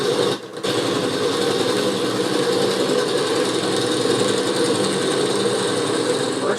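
Steady mechanical whir of a lathe spinning with a drill bit boring into the turning wood, continuous and close, with no talking.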